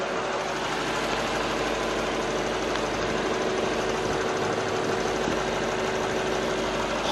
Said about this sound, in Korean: 이 8기통의 정말 부드럽고 정숙한 엔진 소리 바로 들려드리도록